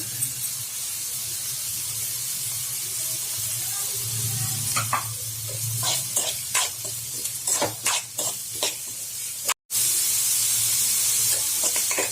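Onion, cabbage, carrot and curry leaves frying in a pan for a bread toast snack, with a steady sizzle and hiss, a few sharp stirring scrapes and clatters in the middle, and no talking.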